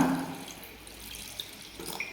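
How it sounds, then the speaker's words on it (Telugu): Water pours steadily into a cooking pan holding jaggery, a continuous soft splashing at close range with no talking. "కొద్దిగా నీళ్లు వేస్తున్నా"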